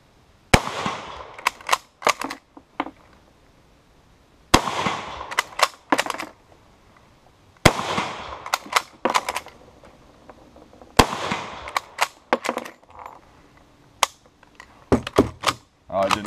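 A French Lebel Model 1886/93 rifle in 8x50R Lebel fires about five loud, sharp shots a few seconds apart. Each report rings out and is followed by clattering mechanical handling noises.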